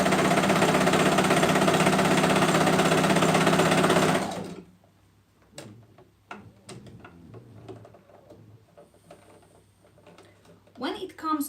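A sewing machine stitches fabric, running loud and steady for about four seconds and then stopping, followed by quiet clicks, handling noises and a voice speaking.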